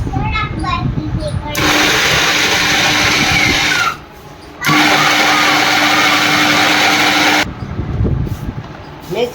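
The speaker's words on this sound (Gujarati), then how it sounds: "હવે જો આપણે આને મિક્સરમાં દરવાનું ચાલુ કરી દીધું છે" A mixer grinder runs in two loud, steady whirring bursts with a short pause between them, and people talk before and after each run.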